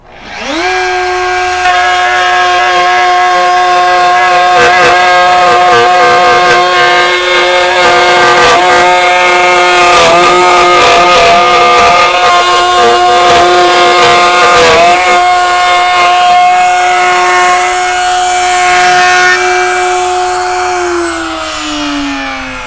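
A router with a router bit cuts wood in a loud, close, sustained whine whose pitch holds steady and dips slightly as the cut ends, with no talking.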